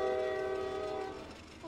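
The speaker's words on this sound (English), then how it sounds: "I hear the train. I see the train." A sustained train horn from an approaching train in a video game blares loudly for over a second as a single harmonic-rich chord, then cuts off, leaving a brief rumble.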